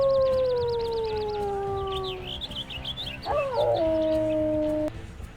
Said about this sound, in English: Maybe we need to howl.